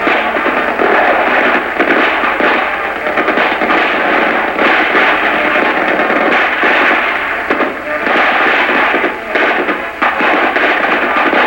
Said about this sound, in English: Team Bravo opens fire.